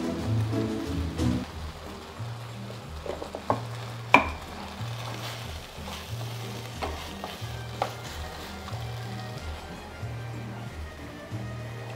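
Pineapple is stirred and fried in a pan for a sweet soy chicken dish, with soft sizzling and scraping strokes that repeat steadily, plus a few sharper knocks against the pan.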